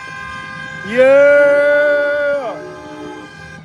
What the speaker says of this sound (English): People honking horns and stuff.